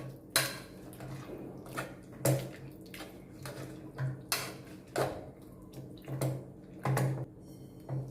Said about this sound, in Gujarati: હવે આપણે મેસરથી મેશ કરવાનું છે